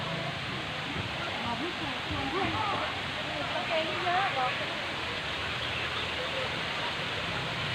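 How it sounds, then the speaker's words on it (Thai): Steady broadband rush of a waterfall among trees at a forest cafe, continuous and moderately near, with faint voices and chatter blended beneath the flowing water. "มีน้ำตกด้วยค่ะ"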